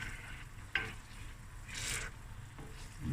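A prawn rice dish simmers in a pan with a steady sizzle, broken by a few bright scrapes and stirs of a utensil, close and moderately quiet.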